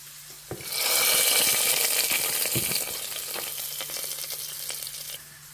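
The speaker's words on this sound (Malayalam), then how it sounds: "നന്നായിട്ടിത് മൂപ്പിക്കാം വറ്റൽമുളക് കൂടി ഇട്ട് കൊടുക്കുവാണ്" Garlic and dried red chillies fry in hot oil in a pan as a tempering for white chickpea curry, giving a loud close sizzle that surges up, carries light stirring clinks, then settles to a softer crackle.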